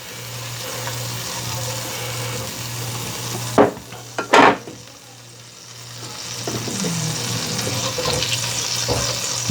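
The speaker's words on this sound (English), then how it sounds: "While that butter is melting" Half a stick of unsalted butter melts in a pan over medium-high heat, a steady close sizzle with a low hum beneath and a few sharp utensil knocks against the pan partway through.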